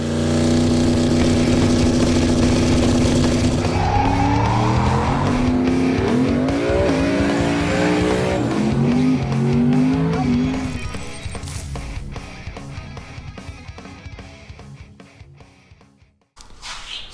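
A no-prep drag race car makes a pass at an eighth-mile dragway, its engine roaring loud and close with rising pitch through the gears, then fading away as it recedes.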